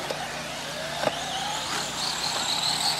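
1/10 scale RC cars racing in an A-main final, a steady high-pitched electric whine of several cars circling continuously at moderate distance, with a couple of brief sharper ticks.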